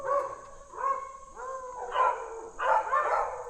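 Dogs in a dog lot below a squirrel's tree bark and howl in repeated, drawn-out bursts, moderately distant, a string of five or so calls spread over a few seconds with no talking.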